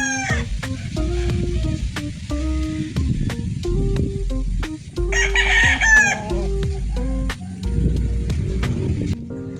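SBR cross chickens in a backyard flock, with a rooster crowing loudly at close range over steady clucking from several hens, plus a few sharp clicks scattered throughout.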